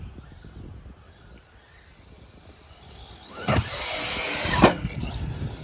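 An Arrma Granite RC car drives and launches off a jump after a wheelie: a quiet rolling rustle rises into a loud burst of motor whine with sharp thumps from the takeoff and landing.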